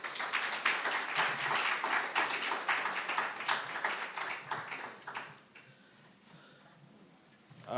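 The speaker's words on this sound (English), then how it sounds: "as the Minister leaves, we also again want to give him a round of applause" Audience at a water symposium applauding a departing minister, a dense spread of clapping that holds steady for about five seconds and then fades quickly into quiet room noise.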